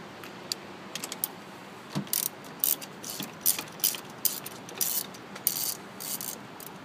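A ratchet fitted with a 10 mm socket removing wiper motor bolts on a 2003 Honda Accord, giving quick bursts of close, crisp clicking in short irregular strokes over low background hum.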